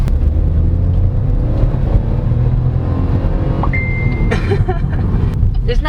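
Cabin sound of a 2022 Chevrolet Tracker turbocharged subcompact crossover driving, a loud steady engine and road rumble throughout, with a few faint higher clinks and tones near the end and no talk.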